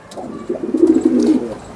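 Racing homer pigeons at a loft in Delhi give a soft, throaty coo that rolls on for over a second, close and fairly loud, with no talking over it.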